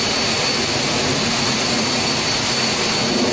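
Steady, loud roar of a Learjet's jet engine in the DCS World flight game, a continuous dense rumble with a thin high whine running through it, no voices.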